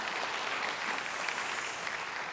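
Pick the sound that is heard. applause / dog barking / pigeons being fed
applause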